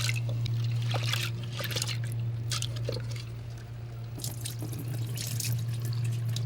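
Water runs steadily from a tap with splashing and trickling as lentils are rinsed underneath, alongside a constant low hum.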